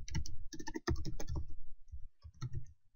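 Quick bursts of keystrokes on a computer keyboard, entering a git init command in a terminal, close and clear with short pauses between clusters of taps.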